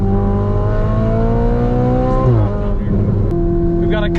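A Ferrari 488 Spider convertible drives through empty desert mountain roads near Las Vegas, its engine a loud, steady, close drone that holds evenly and shifts pitch briefly partway through, with wind noise around it.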